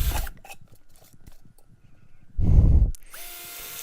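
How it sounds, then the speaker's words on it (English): Power drill boring holes through the bottom of a plastic Dollar Tree bucket, heard as one loud buzzing burst of about half a second, set between quieter handling noises. "I'm going to drill 8 holes in the bottom because we are going to hang at 8 shells."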